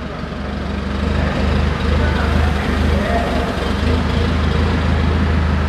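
Steady low rumble of a lifted Chevrolet S10 pickup idling through a straight-pipe exhaust, close and loud, with a constant throbbing drone throughout.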